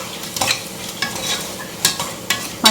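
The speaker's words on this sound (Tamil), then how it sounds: "இதில் மட்டன் ஆட் பண்ணணும்." Boiled mutton tipped into a hot frying pan and stirred, with a soft sizzle under several scraping strokes of a spoon, close and without talk.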